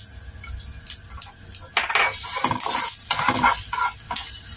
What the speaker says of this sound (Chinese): 就爆一爆啲蒜。